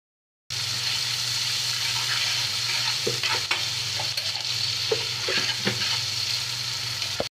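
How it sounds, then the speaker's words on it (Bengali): Sliced onions with a little salt fry lightly in a pan. A steady close sizzle runs throughout, broken by sharp clicks and scrapes as they are stirred, with no one talking. "পেঁয়াজটা বেরেস্তার মতো ভাজবো না, হালকা ভেজে নিব।"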